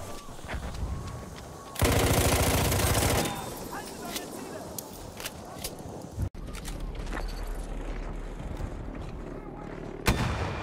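Gunfire and artillery rattle through a battlefield video game: a dense, loud volley of rapid shots, then continued booms and scattered cracks with a sharp final blast, and voices murmur faintly underneath.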